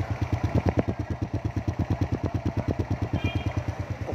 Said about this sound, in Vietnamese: Máy nổ nè